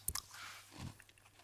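Someone bites and chews crunchy toast topped with salt and olive oil, a couple of sharp crisp crunches followed by softer chewing, close and quiet.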